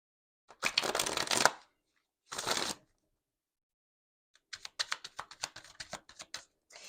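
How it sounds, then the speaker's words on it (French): A deck of cards being shuffled for a card reading, with a crisp riffling burst, a brief second burst, a pause, then a run of quick soft flicks and taps, close and fairly quiet with no talking. "moi, je prépare les cartes en attendant"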